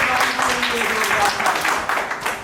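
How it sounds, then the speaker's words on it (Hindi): Applause from a gathering at a Valmiki Jayanti celebration, steady dense clapping with voices and cheering mixed in throughout. "जोरदार तालियां गौरी के लिए।"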